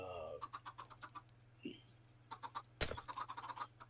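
Minecraft chickens clucking inside a redstone chicken cooker, soft scattered clucks and bird calls with a sharp crack partway through, under quiet talk and a steady low hum.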